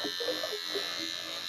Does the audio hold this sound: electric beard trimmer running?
yes